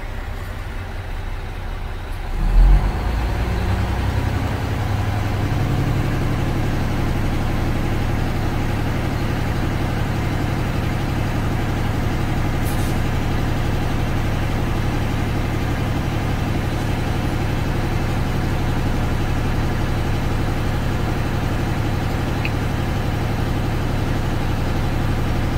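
A truck's diesel engine idles steadily during a CDL automatic pre-trip inspection, starting with a brief thump and then a constant low rumble that continues unchanged and alone throughout.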